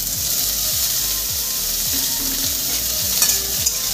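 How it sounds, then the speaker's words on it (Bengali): Chopped onion and tomato fried in a pan, a spatula stirring in a steady rhythm of repeated scraping strokes over a constant sizzle, close and clear, with a couple of sharper clinks near the end and no speech. "টমেটো দিয়ে আমি সুন্দর করে একটু কষিয়ে নেব"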